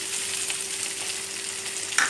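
Ginger-garlic paste fries in hot oil for a spicy Andhra prawn pickle, making a steady, dense sizzle close by that ends with a brief sharp clink near the end, and no one speaks.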